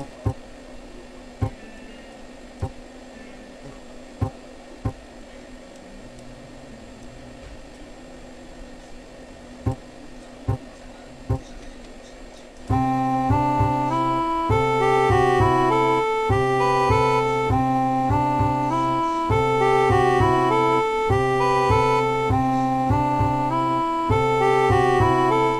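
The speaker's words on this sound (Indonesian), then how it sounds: "Ini adalah suara akustik bass." An acoustic bass MIDI patch plays in Sonar recording software: about thirteen seconds of faint, regular ticking, then loud, steady bass notes in a repeating pattern to the end.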